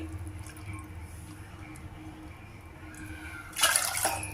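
Water poured into a brass cooking pot while making upma, a short splashing burst arriving near the end after a quiet kitchen hush.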